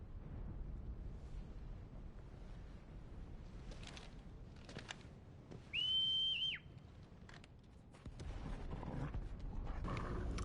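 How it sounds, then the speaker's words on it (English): A character in Final Fantasy 16 gives a short, clear whistled note midway through, rising and then holding steady, heard over a low rumbling ambience with scattered crackles and impacts. "How does he whistle with gloves on?"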